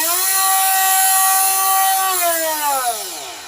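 Parkside PFBS 12 C7 cordless mini grinder running at full speed, a loud, steady, high-pitched whine that holds level, then drops in pitch as the motor winds down near the end.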